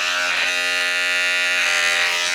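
Electric hair clippers buzz steadily and loudly at close range with a 1 guard fully open, cutting a low fade; a continuous, even drone with no talk.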